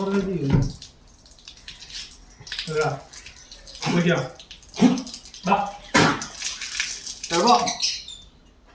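Water runs and splashes into a tub while a six-month-old dog is bathed, voices talking nearby in short bursts, with a few dripping and squeaky sounds.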